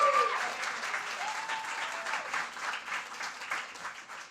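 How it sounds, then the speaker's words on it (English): An indoor audience at a state poetry recitation finals applauds the student competitors, a dense, steady wash of clapping that stays fairly loud and gradually thins, with a brief voice at the very start. "can we give a round of applause for all of the students who competed today?"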